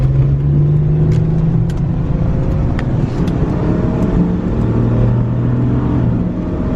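A Ford Explorer with 136,000 miles accelerates from a pull out, its engine a steady, loud low rumble and whir that holds close throughout with a slight rise in pitch.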